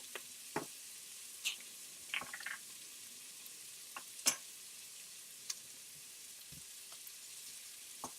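Cumin, chili powder and coriander sizzle quietly in a pan for curry beef and potato, a faint steady hiss broken by scattered soft ticks and clinks of stirring, with no talking.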